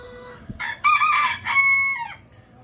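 A rooster crows nearby, a few ragged rising calls with short clucks around them, fairly clear against a quiet background.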